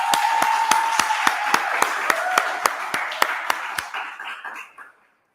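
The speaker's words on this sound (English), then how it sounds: "round of applause for Lori." A small group claps at an office event in a new office and event center, a dozen or so sharp, close, evenly spaced claps over a bed of applause that fades out after about four seconds.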